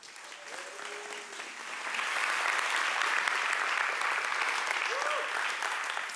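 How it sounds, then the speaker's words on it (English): Warm applause from a conference audience welcoming a speaker to the stage, building after a couple of seconds into a dense, steady clatter of clapping that carries on throughout, with a brief voice heard underneath early on. "I want you, well, to applaud for Allard"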